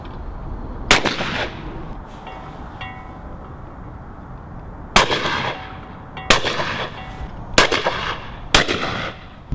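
A cheap, unaltered shotgun fires at clay targets outdoors: five loud, sharp reports, one early and then four in quick succession later, each with a short echoing tail.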